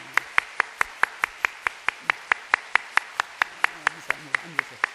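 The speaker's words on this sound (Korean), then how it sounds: "박수하겠습니다" Church congregation claps in a steady, quick, evenly spaced rhythm to welcome visiting members, each sharp clap distinct and close, with a faint voice underneath.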